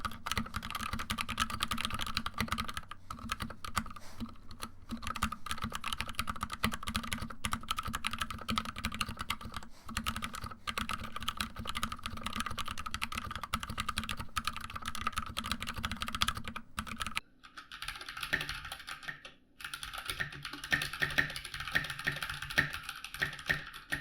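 Continuous fast typing on an Anne Pro 2 60% mechanical keyboard with linear switches, dense close-up key clacks, shifting to a sparser, crisper rhythm near the end.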